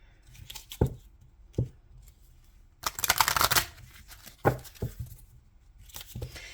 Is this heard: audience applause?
no